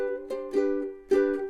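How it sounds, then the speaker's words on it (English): Ukulele arpeggio picked with a finger or thumb, individual notes rolling down the strings in a few soft, ringing plucks with clear sustain, played alone and fairly close. "Now arpeggio on the uke is you just run your finger straight down the notes."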